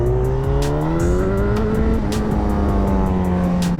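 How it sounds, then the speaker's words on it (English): Freeway traffic heard from a moving motorcycle: a loud, constant engine drone with steadily rising and falling pitch, rushing wind, and brief sharp ticks layered throughout. "Oh my god, traffic."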